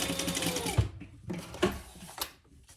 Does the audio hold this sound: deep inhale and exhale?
no